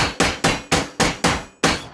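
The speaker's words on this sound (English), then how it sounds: "you just bash it all together with a hammer" A hammer bangs together a homemade cartoon jetpack with seven loud, evenly spaced metallic strikes, each ringing briefly before the next. No voices are heard.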